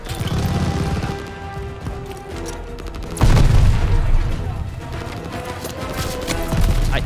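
Gunfire and explosions in a Call of Duty Vanguard campaign battle: dense, loud bursts of shots and booms rolling continuously, with a heavier blast about midway, a player's voice occasionally over the din.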